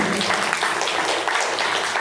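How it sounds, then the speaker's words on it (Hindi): Congregation clapping together during a Hindi church service, a steady, dense wash of applause that runs loud and unbroken throughout. "ताली बजाकर परमेश्वर को महिमा करेंगे।"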